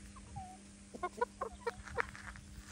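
A hen clucking in a short burst of several quick, soft clucks, fairly faint and close, over a low steady hum in the background.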